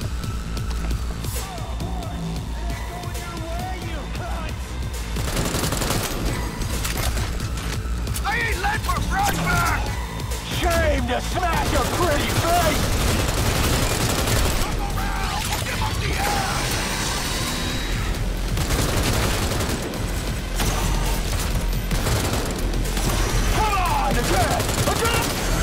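Gunfire in a Cyberpunk 2077 combat sequence, with bursts of rapid shots, mechanical clicks and rattles layered over loud game noise, and someone talking at times.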